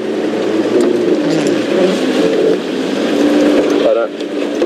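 A safari game-drive vehicle's engine runs steadily and close while it is manoeuvred into a parking spot in the bush, a continuous low rumble throughout that dips briefly near the end, with a voice talking faintly over it.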